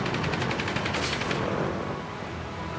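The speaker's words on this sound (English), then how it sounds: "I can just drive around and listen to those cannons." Rapid bursts of warplane cannon fire in the game World of Warplanes rattle loudly, then fade into a steady roar of engine-like noise.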